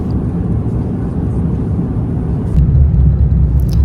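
A passenger airplane landing at Incheon Airport near Seoul, heard from inside the cabin as a loud, steady low roar that swells slightly toward the end.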